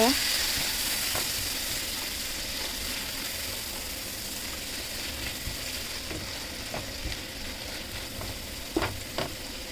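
Shrimp and watermelon rind fry in a pan with panch phoron, turmeric, cumin, coriander powder and bay leaves, giving a soft, steady sizzle with occasional faint stirring clicks.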